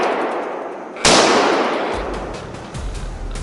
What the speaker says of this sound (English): rapid gunshots echoed